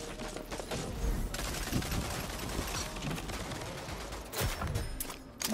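Gunfire in the shooter game Rogue Company, a steady clatter of overlapping shots at moderate volume with a few heavier bursts, with no talk over it.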